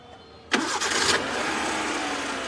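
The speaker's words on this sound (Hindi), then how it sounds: "गाड़ी हमारी स्टार्ट हो चुकी है।" A Maruti Eeco with a worn clutch bearing cranks on its self-starter, then catches with a sudden loud burst and settles into a steady, even idle that runs close by to the end.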